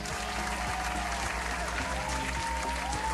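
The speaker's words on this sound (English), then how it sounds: "This way, you will hear louder applause." Audience applause in a hall after a public speaking talk, continuous clapping under a steady musical background with low rhythmic tones, moderately loud and even throughout.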